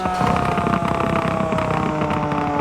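A BMW M4 GTS engine in Forza Horizon 4 burbles loudly and steadily, with a rough, pulsing low-end texture throughout.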